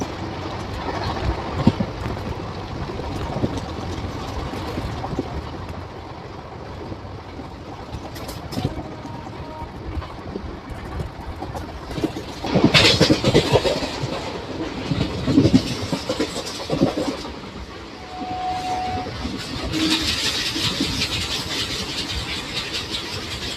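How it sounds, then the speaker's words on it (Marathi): The Koyna Express pulls out of Sangli railway station on its Kolhapur to Satara run, running about twenty minutes late. A steady rolling rumble carries rhythmic wheel clatter, with a brief tonal blast and louder swells partway through. "आता सांगली रेल्वे स्टेशनवरून गाडीचं डिपार्चर झालेलं आहे."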